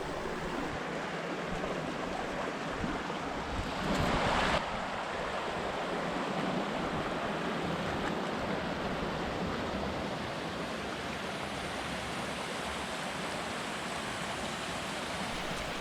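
Water pours steadily over a trash-strewn weir, a constant broad rushing roar that holds at an even, moderate level from start to finish with no voices.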